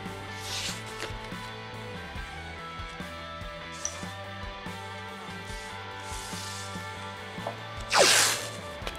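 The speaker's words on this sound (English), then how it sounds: "So I'm just going to get a bit of masking tape." Masking tape tearing off the roll in one short, loud rip near the end, over a steady hum of background music, with a few faint crinkles earlier.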